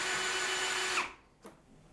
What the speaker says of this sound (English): you can take a 3/8 drive on a drill and put that in there